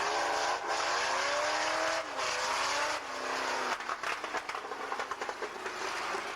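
Banger-racing stock cars, a Volvo among them, roar continuously around a 1998 club oval, engines revving and droning with shifting pitch as the pack passes, joined late by rapid clattering bursts.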